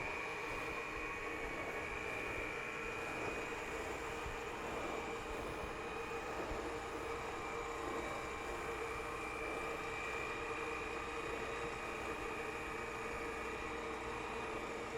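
A wood lathe spins a Scottish spurtle to burn in an oil finish, a faint, steady motor whir with a thin constant whine riding over a low rumble, unbroken throughout.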